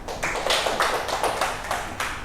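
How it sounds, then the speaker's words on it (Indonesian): A class applauds a classmate in an Indonesian school lesson: a few seconds of steady group clapping that swells in soft repeated waves, fairly close, with no talking over it. "Tepuk tangan untuk Mbak Afifah."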